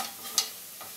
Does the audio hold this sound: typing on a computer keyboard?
no